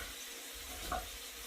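Bacon cubes sizzling in a pot for New England clam chowder, a steady, moderately loud hiss of frying fat that lasts the whole short moment.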